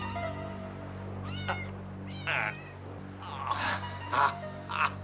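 A cat meows repeatedly on a ship's deck, several drawn-out, wavering cries spaced irregularly over a low steady hum, fairly close.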